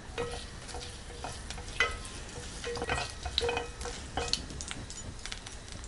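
Hot oil crackles and sizzles steadily as mustard seeds pop in a pan with chana dal and urad dal, with occasional scraping clicks of a utensil; no voices.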